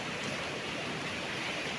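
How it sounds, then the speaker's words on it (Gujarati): Floodwater of the Malan River surging bank to bank at Mota Khutvada, a steady, close, full roar of rushing water with no voices. "ઉફાળા મારે છે પાણી"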